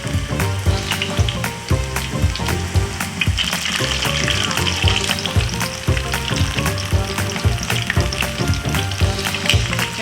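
Shrimp fry in hot oil, giving a steady, dense sizzle with crackling pops and occasional stirring scrapes, loud and close with no talking.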